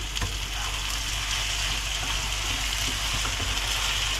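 Mushrooms fry in a pan with sour cream just added, producing a loud, dense, continuous sizzle and bubbling hiss that holds steady throughout with no pauses.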